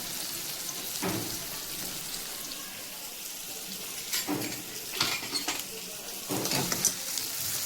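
Chopped onions fry with curry leaves in a pan, giving a soft steady sizzle broken by several brief scrapes and clatters of stirring, close by.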